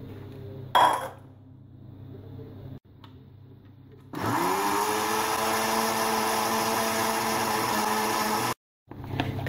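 A clink of glass, then a blender mixing a no-bake dessert with biscuit pieces starts up and whirs loudly and steadily for several seconds before cutting off abruptly.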